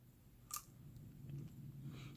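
Someone bites into and chews a frozen keto chocolate fat bomb with pecans, giving one sharp crunch followed by soft, close chewing sounds.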